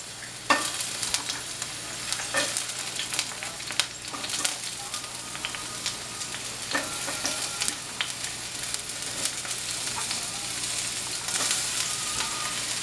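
Onions sizzle and crackle steadily in a hot pan for a burger topping, a quiet, continuous frying hiss with scattered small pops and no talking.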